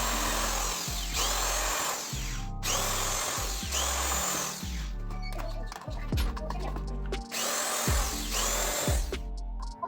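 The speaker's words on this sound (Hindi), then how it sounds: "हमको प्लेट में छोटा होल करना है, इसलिए हम छोटा ड्रिल बिट को लगाएंगे" A power drill fitted with a small bit bores a hole in an electrical switch plate, running in several loud whining bursts separated by short pauses, close by, with occasional clicks between runs.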